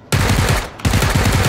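Gunfire in the PUBG battle royale game: two loud sustained automatic bursts separated by a brief gap, rapid repeated shots rattling close and dense.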